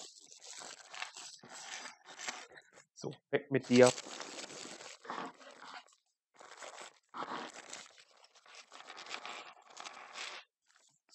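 Plastic bags from a COBI building set are torn open and crumpled, with a loud burst of crinkling and ripping near the middle, surrounded by quieter rustling while someone talks.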